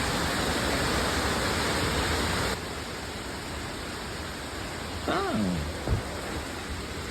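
Heavy rain roars steadily as a dense, close wash of noise that fills the whole stretch, easing a little partway through, with a brief sliding tone near the end.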